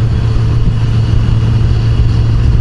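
A 2014 Kawasaki Z1000 Special Edition motorcycle engine hums steadily under way on a test ride, a loud, constant low drone with wind rush and no break in tone.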